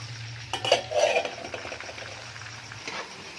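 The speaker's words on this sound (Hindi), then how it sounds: "प्याज को जो है हम ये ब्राउन कर लेंगे" Onions browning in a frying pan for a chicken and chickpea curry give a soft background hiss. A spoon clatters and scrapes against the pan early on, close by, and no one speaks.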